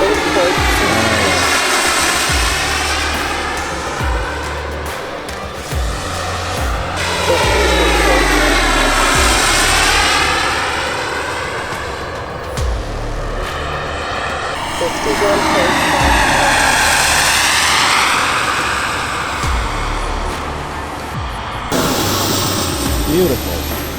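An AJ Aircraft Extra 330 radio-controlled model plane drones past in repeated loud, rising and falling engine sweeps as it flies circuits and comes in to land, with people talking over it.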